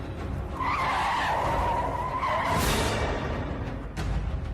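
A car skids hard and screeches to a sudden stop, a loud sustained tire squeal rising over engine and road noise for a few seconds, then a brief whoosh as it halts.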